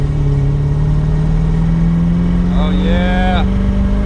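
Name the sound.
Porsche engine starting and running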